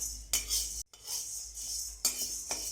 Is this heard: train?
no